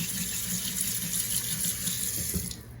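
Water running from a kitchen tap as a spoon is rinsed under it, a steady close splashing stream that stops abruptly near the end.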